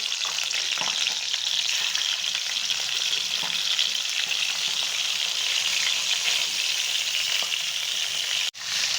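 Fish sizzles steadily while frying in a pan, a loud continuous hiss with faint crackle throughout and no talk, ending in a brief dip near the close.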